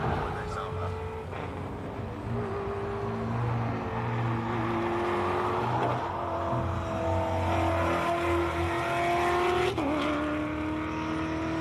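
Off-road race cars built for sand climb the hill at the SIMOLA HillClimb qualifying, their engines droning steadily and loudly with rising and falling pitch, under a commentator's voice.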